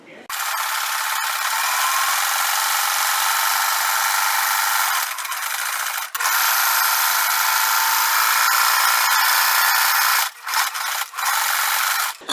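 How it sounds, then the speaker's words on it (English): A sewing machine stitching through newspaper, running steadily and loudly up close with a bright whirring buzz, pausing briefly twice and stopping in short breaks near the end. "I'm just going to sew on the lines"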